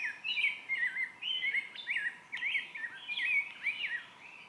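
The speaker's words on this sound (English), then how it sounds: "The birds are just getting after it out there." Several birds sing and chirp repeatedly in bright, lively phrases outdoors in Ponca State Park, Nebraska, moderately loud over a soft background hiss, with no talking.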